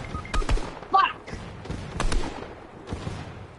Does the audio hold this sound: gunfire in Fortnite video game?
yes